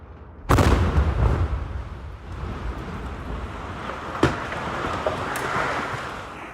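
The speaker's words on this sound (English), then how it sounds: "showing the moment that home exploded late last night" A house explodes in Arlington at night with a sudden deep boom, followed by a long rumbling roar, with a second sharp crack and scattered pops echoing afterward.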